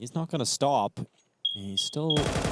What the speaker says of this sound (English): I think that was my fire alarm.